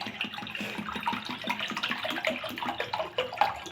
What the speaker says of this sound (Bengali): এবার বড় একটা বাটি নেব, বাটির মধ্যে জল দিয়ে দেবো।